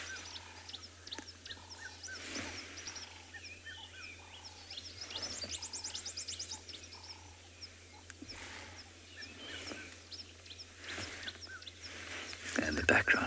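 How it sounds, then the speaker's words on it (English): A red-chested cuckoo calls repeatedly in the distance at Thornybush reserve, its short whistled phrases recurring at a steady rhythm, faint beneath other bird chatter and a low hum of background noise. "In the background you can hear the yellow red-chested cuckoo."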